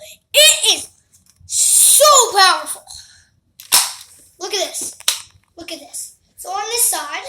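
A Nerf Rival blaster pistol fires a couple of sharp, close pops between stretches of someone talking excitedly.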